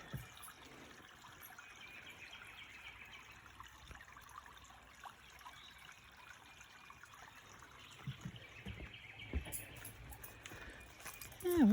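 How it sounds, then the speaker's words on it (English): A small woodland brook flowing quietly, a soft continuous trickle and wash of water in the background, with faint footsteps and a voice speaking near the end. "But it's such a nice little brook."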